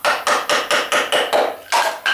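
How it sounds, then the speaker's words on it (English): A hammer strikes the engine cover of a BMW N54 engine during crankshaft removal, delivering about nine sharp, close, loud blows in a steady rhythm roughly a quarter second apart, with no talking. "I'm gonna get my hammer and I'm gonna try to pop this cover off"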